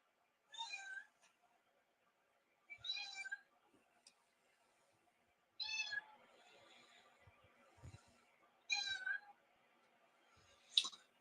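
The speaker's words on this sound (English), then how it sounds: "So that's my cat that you're hearing that's meowing." A pet cat named Lisa meows indoors, five or so separate calls spaced a couple of seconds apart, clear and close against near silence, with faint clicks and shuffling between them.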